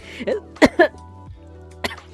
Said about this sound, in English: that's not sick coughing, that's saliva went down the wrong pipe coughing